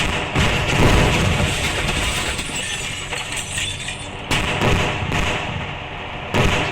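Dense, continuous rumbling blasts with crunching, glassy debris, punctuated by sudden louder bursts near the end, like a chain of vehicles exploding in an Indian bike video game.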